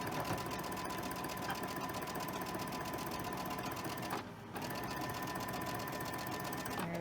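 A sewing machine stitches over existing seams on quilt blocks, a steady, fairly quiet mechanical whirr with rapid needle chatter that runs continuously and pauses briefly once before resuming.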